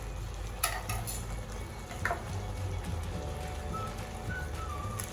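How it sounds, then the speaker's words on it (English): Pumpkin curry sizzling gently in a pan, with a few spoon scrapes and clinks against the metal during stirring, and a soft steady frying hiss underneath, moderately quiet and free of speech. "So just stir it a little bit first."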